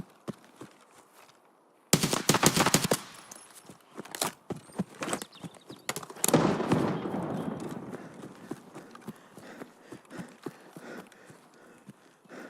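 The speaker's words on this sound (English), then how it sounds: "I think the RSAS and muzzle brake sounds almost like that." Video game gunfire from an RSAS rifle fitted with a muzzle brake: after a quiet start, a loud burst of rapid shots breaks out, then scattered cracks and echoing reports continue at varying distances.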